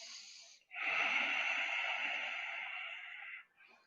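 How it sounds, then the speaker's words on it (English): Slow, deep breathing during a tai chi fan exercise: a short soft breath, then a long steady airy exhale of nearly three seconds, close and breathy, with no talking. "three breaths, deep breaths"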